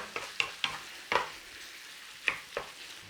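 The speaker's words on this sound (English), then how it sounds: "Cook it all together nice and gently. Just break it up, cook it down." Lamb, onions and garlic fry gently together in a pan, with a low sizzle under a run of sharp spoon scrapes and knocks, six or so spread unevenly and close by.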